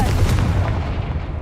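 A blasting spell in the Hogwarts Legacy video game, a loud, close booming burst with a heavy low rumble that rolls and fades over about a second and a half.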